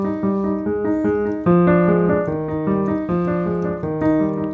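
Piano playing a broken-chord Alberti bass accompaniment from Beethoven's Piano Sonata No. 1, first movement, with steady, evenly repeating notes in clear phrases, close and fairly loud, with no voices.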